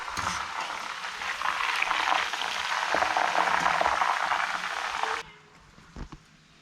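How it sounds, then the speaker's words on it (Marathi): Jackfruit pieces fry in hot oil, a dense steady sizzle lasting about five seconds before cutting down to a faint crackle with a couple of small clinks. "पण गरे तळून जरा वेळ लागणार."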